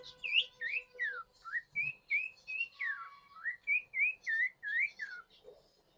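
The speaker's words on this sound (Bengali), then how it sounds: "পিকো প্রচুর কথা বলতেছে" A pet bird whistles and chatters close by in a quick run of about a dozen rising and falling chirpy notes, clear and unaccompanied.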